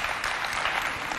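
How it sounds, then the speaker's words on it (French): An audience applauds a young woman after she sings the national anthem at a youth holiday event, a brief dense burst of steady clapping with no voices. "On applaudit bien fort Marie-Odile."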